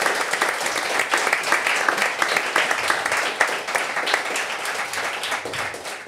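Live audience giving a long, steady round of applause for a guest at a running podcast recording, dense clapping throughout.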